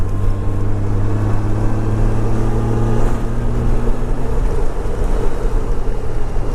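A Honda Goldwing touring motorcycle leans through a corner, its steady engine drone and road rumble mixed with heavy wind buffeting, loud and continuous throughout with no talking.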